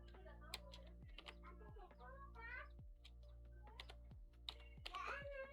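Keys clacking on a computer keyboard, a run of light irregular taps with a steady electronic hum underneath and faint child-like chatter in the background.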